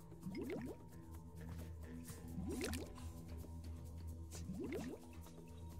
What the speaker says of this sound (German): Ich höre es doch schon die ganze Zeit blubbern.